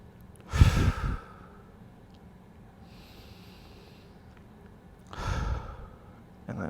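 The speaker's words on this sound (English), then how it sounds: "Let's go a couple more breaths." Slow, deep breaths during a 90/90 hip external rotation stretching exercise: two audible exhalations like heavy sighs about five seconds apart, close and fairly loud, with quiet in between and no talk.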